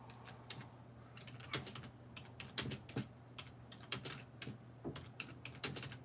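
Keys tapped on a computer keyboard in irregular bursts of clicks, fairly close and moderately loud over a steady low hum, with no talking.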